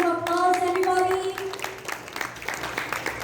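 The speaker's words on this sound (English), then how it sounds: "Let's give a round of applause" Applause from the audience at a Kiwanis club chartering and installation ceremony comes as a burst of clapping after a sustained tone cuts off, and it continues under a voice speaking.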